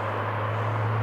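An Irish 295 airliner taxis past at Newcastle Airport, a steady broad engine roar with a low droning hum, loud and even across a brief moment.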